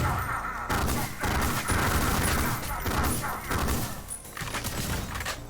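Submachine-gun fire in the retro shooter Ion Maiden: rapid, loud bursts of shots that repeat almost without pause throughout, with heavy thuds mixed in.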